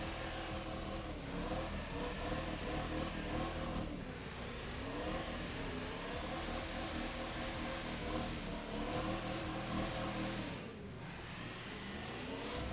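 A car engine in The Crew 2 racing game revs steadily with rising and falling pitch sweeps as gears change, a continuous mid-level whine with a brief dip near the end.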